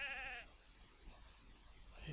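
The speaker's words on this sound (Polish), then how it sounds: "Tu muczą te krowy normalnie." Cows mooing in the Ultima Online video game: a short, bright bellowing call opens the moment, then fades into quiet ambience, and a fainter call starts to rise at the very end.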